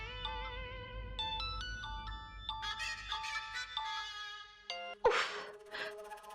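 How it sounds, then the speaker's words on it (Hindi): A melodic electronic phone ringtone plays through several bright note phrases, fairly faint, followed by a sharp breathy burst near the end. "वरुण का फोन"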